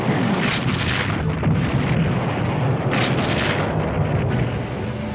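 The battleship Missouri's big guns firing in wartime bombardment, deep heavy booms rolling one after another over a dense, rumbling roar.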